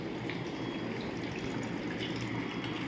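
Water purifier machine running with its motor on while water flows, a steady close whooshing gush with a low motor rumble throughout, no voices.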